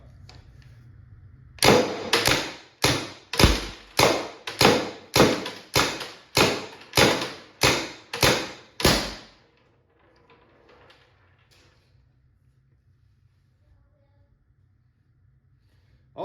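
A Tippmann TMC HPA paintball marker with shimmed and polished internals fires about a dozen sharp, loud shots in a steady, evenly spaced rhythm over roughly seven seconds, emptying a magazine, followed by near silence.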